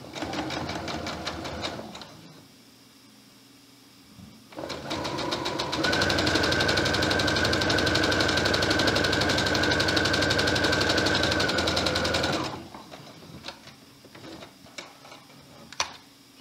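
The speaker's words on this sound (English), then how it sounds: "I'm just going to use my sewing machine for this today" A sewing machine stitching fleece binding runs in short bursts, then stitches steadily for several seconds at a fast, even rhythm before stopping, with quiet handling noises around it.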